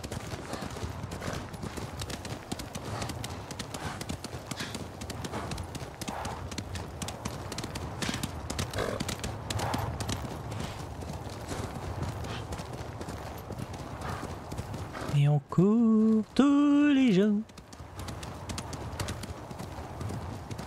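Horse galloping in the video game Ghost of Tsushima, a steady rapid clip-clop of hooves throughout, followed near the end by a loud, close whinny.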